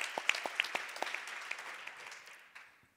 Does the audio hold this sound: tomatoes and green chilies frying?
no